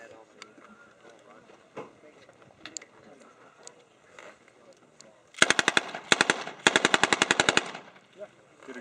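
An original 1918 machine gun fires blank rounds at a WWII reenactment during a multigun match, in two loud, close, rapid bursts of sharp reports after a stretch of quiet background talk.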